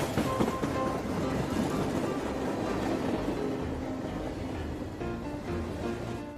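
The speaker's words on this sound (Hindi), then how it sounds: "एक दिन उस गांव से डबल डक्कर ट्रेन जा रहा था" A double-decker train rolls past a village, a continuous loud rumble and clatter of wheels on rails that holds steady throughout.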